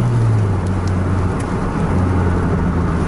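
A bus travelling on the road from Aceh toward Medan near Langsa before dawn, its engine a steady low drone with continuous road rumble, close and unbroken, with no voices.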